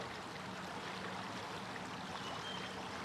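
River water flows through a forest in a steady, broadband rush, moderately quiet and continuous, with no voices.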